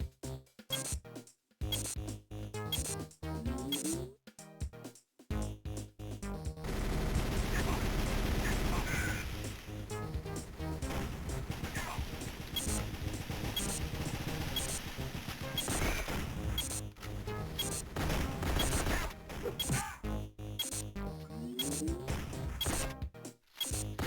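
Shotgun blasts from the Nintendo DS game GoldenEye: Rogue Agent, heavy bursts of gunfire and impacts packed into a loud, dense stretch of game action with brief gaps between volleys.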